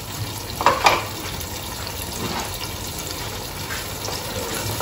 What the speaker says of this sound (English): I added about half a cup of water to this. I'm just going to add that in here as well.